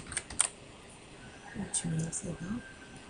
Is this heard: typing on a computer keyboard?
yes